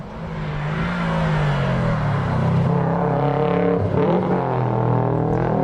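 A 2001 Subaru WRX saloon at a hillclimb, a loud engine howl rising and falling through gear changes as the car accelerates, sustained for several seconds.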